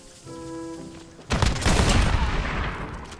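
Rapid gunfire bursts from the Modern Warfare video game erupt after a brief quieter tonal stretch, dense and loud, with crackling impacts continuing to the end.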